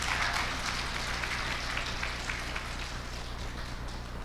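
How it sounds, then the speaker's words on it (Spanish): Church congregation applauding for Christ during a Spanish-language service, a steady wash of many hands clapping that fades slightly toward the end, with no speech over it. "Denle un aplauso a Cristo"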